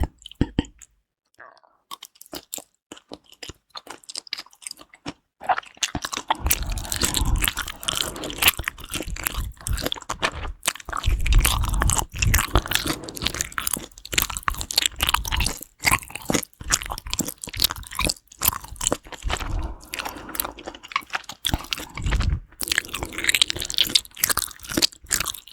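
Crunchy malatang being chewed up close, with repeated crisp bites and mouth sounds that grow dense and steady after a quiet start, with no talking over them.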